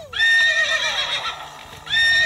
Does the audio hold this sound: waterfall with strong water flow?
no